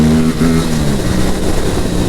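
Aprilia RS457 motorcycle accelerating hard on a road tour, a loud, close engine roar with rising then settling pitch filling the whole moment, no voices.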